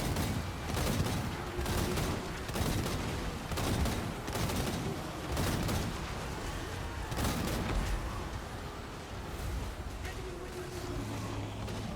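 Hellblaster volley guns in a Warhammer battle game fire in rapid crackling bursts, repeated sharp volleys layered over a dense battlefield din, with several clustered salvos across the stretch.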